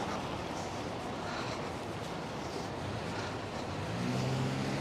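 Traffic in a Manhattan street, cars turning and accelerating nearby in a steady, dense rumble, with an engine swelling slightly louder toward the end.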